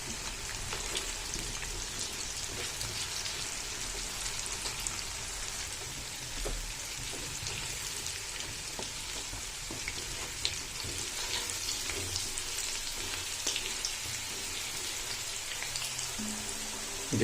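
Potato pieces frying in oil in a pan for dahi aloo sabzi, a continuous even sizzle like light rain, with faint stirring knocks now and then and no voices.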